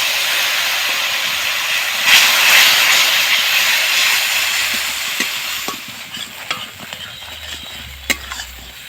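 Spice paste frying in a pan just after a splash of water is added, giving a steady broad sizzle and hiss that swells briefly early on, then thins out with scattered pops and crackles toward the end.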